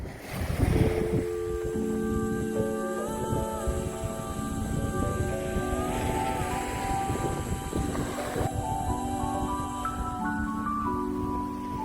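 Choppy ocean waves on the shore of Barbuda island in the Caribbean, a constant broadband surf and wind rush with faint tonal ringing layered on top, no voices.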